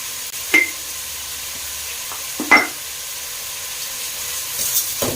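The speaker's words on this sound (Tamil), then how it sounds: "வெங்காயம் கோல்டன் ப்ரௌன் ஆகுற அளவுக்கு நல்லா வதக்கி விட்டுருங்க." Onions sautéing in oil in a pan for chicken biryani, a steady soft sizzle close by, broken by two sharp scraping stirs of a spoon, with no talking.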